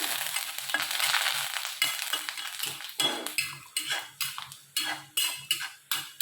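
Curry leaves fry in a pan while sambar spices are roasted, a hissing sizzle at first giving way to regular scraping strokes of a utensil against the pan, close and without talk.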